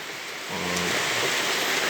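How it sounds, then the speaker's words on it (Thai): Rain hisses steadily throughout, a soft wash of falling water with a low rumble swelling in just after the start. "บรรยากาศฝนตก ชุ่มช่ำใจเลยครับผม"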